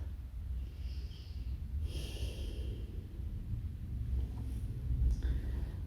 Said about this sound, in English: Stay here for a full breath in and a full breath out.